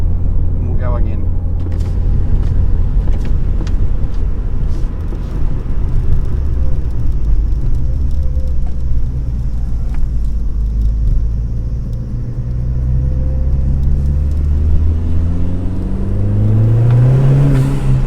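A Ford Fiesta ST Mk7 fitted with an ITG intake accelerates from inside the cabin, a loud, steady engine drone and rumble that rises in pitch toward the end as revs climb.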